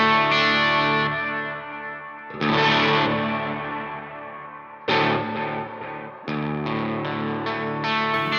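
EHX Oceans Abyss filtered reverb pedal chained with analog delay, tape delay, flange and saturation, washing over sustained chords in swelling, distorted phrases that cut off and restart several times, loud and alone.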